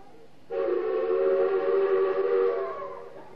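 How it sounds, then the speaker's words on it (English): A railway guard's whistle sounds as a train departs: a single steady, loud whistle tone held for about three seconds, then cut off, with no talking. "So the guard blew his whistle and waved his green flag."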